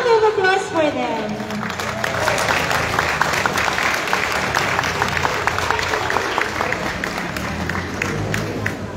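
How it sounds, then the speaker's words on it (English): Crowd applauding newly elected barangay officials at a proclamation event in Santolan; a voice trails off at the start, then loud, sustained clapping continues with sharp individual claps standing out. "A round of applause for them."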